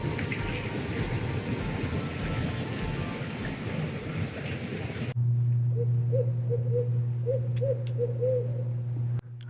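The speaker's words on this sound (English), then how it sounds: "I don't know if you can hear that, but there's an owl." An owl hoots repeatedly at night beside glamping domes on a ranch in Cumberland County, the hoots moderately near over a steady low hum after a noisier opening stretch.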